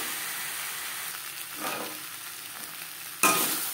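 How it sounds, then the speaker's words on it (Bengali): Potatoes being stir-fried with spices in a pan for a kosha alur dum, a steady sizzle with soft scraping and stirring strokes, ending in a sudden sharp clatter near the close. "মশলার সাথে আলু বেশ ভালো করে কষিয়ে নেব"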